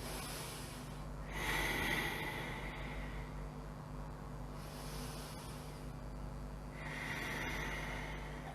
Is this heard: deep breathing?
yes